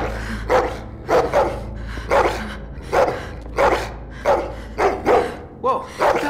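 Dog barking in The Walking Dead: The Final Season video game, a run of about ten loud, close barks in a steady rhythm.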